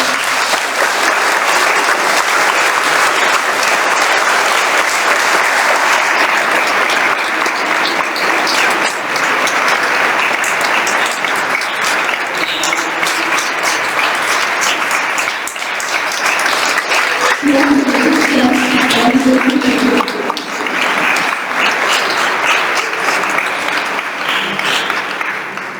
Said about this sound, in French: Alors je crois qu'on peut les remercier bien fort en les applaudissant évidemment.